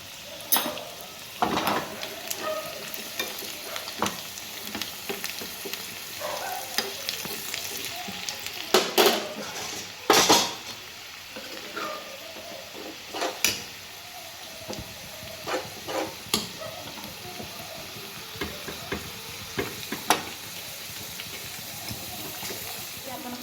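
Garlic and spice masala tempering frying in a pan for a garlic fenugreek vegetable dish, a steady close crackle broken by sharper spits and stirring scrapes, with one louder burst of sizzle midway.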